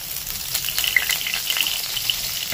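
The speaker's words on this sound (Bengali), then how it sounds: "এক টুকরো আদা গ্রেট করে, এটা ভাজতে হবে।" Grated ginger frying in hot oil with whole spices in a home kitchen, a steady close sizzle with small crackling pops throughout, no talk.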